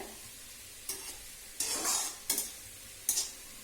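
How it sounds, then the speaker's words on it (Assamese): Banana flower (kolposola) frying in a pan over low gas is stirred now and then, giving several short bursts of scraping and sizzle over a quiet background. "এয়া ফ্ৰাই কৰি আছোঁ, এনেকুৱা হৈ গৈছে। আৰু অলপ সিদ্ধ হ'ব লাগিব। এতিয়া মই এনেকৈ মাজে মাজে লাৰি আছোঁ"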